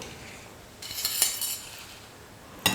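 Crispy bakery-style fried chips rattle in a metal ladle, giving short, dry, light clinking bursts. A quiet first shake is followed by a second brief rattle near the end.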